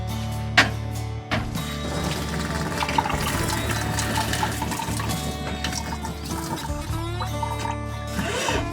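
Water pouring from a pull-out kitchen faucet inside a custom camper van, a steady close splashing stream with a few knocks and clunks, no talking.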